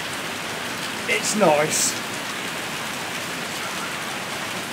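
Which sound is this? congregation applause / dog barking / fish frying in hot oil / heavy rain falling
heavy rain falling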